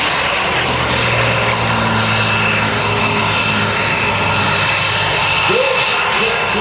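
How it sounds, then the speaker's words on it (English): An F-22 Raptor jet fighter from Langley Air Force Base roars overhead at an air show, a loud, sustained rushing engine noise that fills the whole stretch with faint announcer talk beneath it. "Here comes Zeke Skilsky from Langley Air Force Base in the F-22 Raptor"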